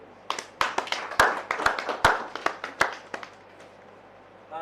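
Sparse, scattered claps from a small audience greeting a comedian at a live show, a handful of sharp hand slaps in an uneven rhythm with brief gaps, fairly close and fading out by the end.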